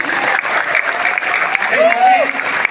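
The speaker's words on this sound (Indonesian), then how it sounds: "Beri aplaus buat kawan-kawan caleg." Applause for a labour party's legislative candidates at a rally, a crowd clapping steadily at moderate distance under an amplified voice speaking.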